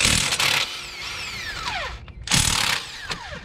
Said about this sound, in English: we could go ahead and remove our caliper bracket bolts